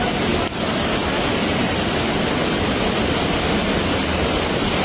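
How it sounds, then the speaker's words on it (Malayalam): Heavy monsoon rain and rushing floodwater roar steadily and loudly, a dense continuous wash of water close by, with no voices audible. "അപ്പോൾ മഴയും വെള്ളത്തിൻ്റെ ശബ്ദമൊക്കെ ആയതുകൊണ്ട് നമ്മളെ വോയിസ് ഒന്നും അത് അധികം ക്ലിയർ ആയിട്ടുണ്ടാവില്ല"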